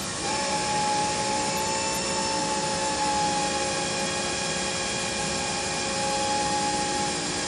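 A fuel injector cleaning machine runs a leak down test, giving a loud, steady mechanical whine and hum with constant tones and no pauses.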